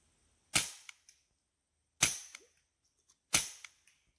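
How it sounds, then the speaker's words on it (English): Three sharp gunshots aimed at a 2x4 board ring out outdoors, each a loud crack with a short decaying echo, spaced about a second and a half apart with quiet in between. "can you shoot the 2x4 a little more?"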